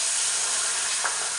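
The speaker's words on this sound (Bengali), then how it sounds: "আর এটা ভেজে নিয়ে তারপরে এগুলো ভেজে নেবো।" Bata fish fry in a very hot pan, giving a dense, even sizzle that stays loud and close for the whole short stretch, with no talk over it.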